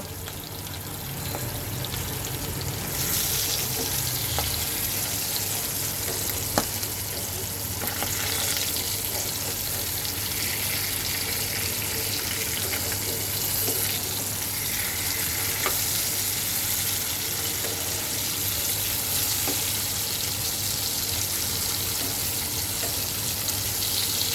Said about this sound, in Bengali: মাছটাকে এখন ভেজে নেই